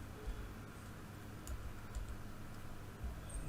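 Computer keyboard keys pressed on a PC while typing a dollar sign into a Windows Server advanced sharing setting, a few light ticking taps scattered over a steady low hum.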